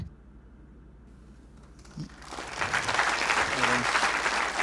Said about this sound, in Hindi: ये ताली किसके लिए बज रही है?